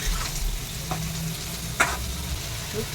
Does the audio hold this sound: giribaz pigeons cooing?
no